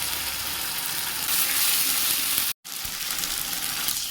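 Spice paste mixed with water is poured into a hot frying pan that already holds cumin and a ginger, garlic, green chili and onion paste, giving a loud, steady sizzle with a brief cut partway through before the frying continues.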